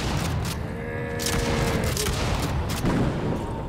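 Gunfire from the cubic mobile FPS game HunterCraft: a dense, continuous volley of overlapping shots and booms, steady and fairly loud throughout, with faint tonal effects layered in.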